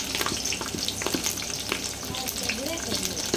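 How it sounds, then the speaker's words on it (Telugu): Curry leaves hit browned onions frying in a pan for a Sunday home-cooked dish, giving a steady close sizzle with crackles, pops and stirring scrapes throughout, no voices. "ఆనియన్ ఎర్రగా అయింది కదా ఇప్పుడు ఇందులో కరేపాకు యాడ్ చేసుకుందాం"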